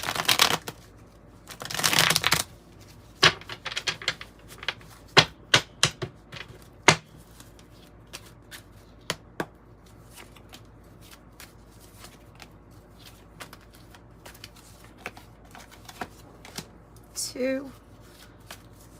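A deck of 108 cards being handled and riffle-shuffled, a loud burst of shuffling followed by a string of sharp card snaps and flicks, with a short spoken word near the start.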